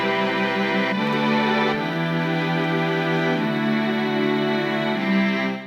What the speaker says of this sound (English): And then I copied over the MIDI to a Omnisphere patch here, which is strings